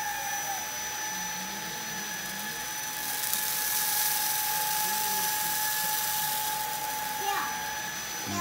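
A MOOSOO K24 cordless vacuum runs on its low setting, picking up rice from a rug. A steady, close whirring hum with a faint high whine swells slightly midway.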